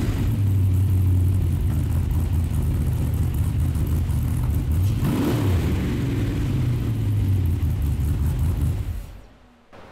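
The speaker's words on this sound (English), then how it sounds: "I was stood here and now the engine's working" Chevrolet LS3 V8 fitted in a Volkswagen Beetle runs loudly and steadily up close, with a low throbbing rumble and a brief rev swell midway before the engine cuts off and falls quiet at the end.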